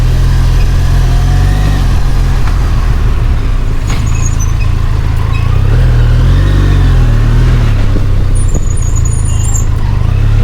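A motorbike on a night highway near a toll plaza drones loudly with steady engine rumble and wind roar, the pitch rising and dipping as gears change, continuous and close throughout.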